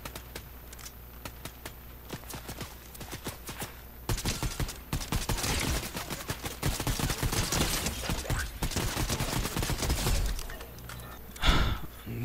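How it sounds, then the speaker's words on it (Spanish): Gunfire in a Fortnite match: a quiet stretch gives way to a dense run of rapid shots aimed at the player, continuing for several seconds before a final sharp burst. "Me está disparando"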